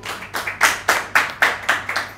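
Audience clapping at a cancer seminar for people wearing cultural outfits, heard as a steady series of about eight distinct, evenly spaced claps, loud and close with no talk.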